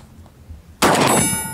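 A 12 gauge shotgun firing buckshot outdoors: one loud, sharp blast after a quiet lead-in, followed by a ringing, decaying tail with metallic overtones, close and alone.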